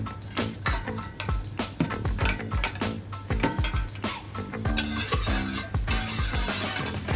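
Scraping and tapping of a spatula against a hot wok or pan goes on continuously as food for buttered fried chicken is stir-fried over a sizzle. The clatter is busy and irregular, fairly faint, with no talk.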